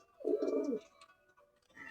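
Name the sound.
Pakistani pigeon cooing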